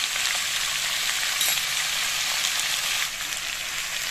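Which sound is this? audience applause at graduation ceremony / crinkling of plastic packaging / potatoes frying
potatoes frying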